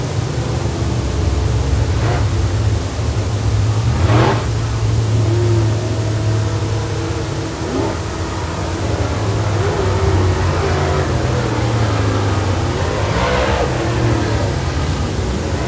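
Late model race cars circle a track under a caution flag, a steady broadband engine roar with passing rises and falls as cars come by, loud and continuous with no talk.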